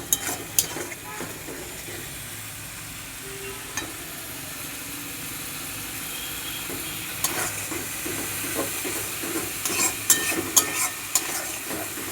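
Masala spices fry and sizzle in a pan while a spoon stirs them, soft scraping clicks breaking a steady low hiss, with a few sharper stirring knocks toward the end.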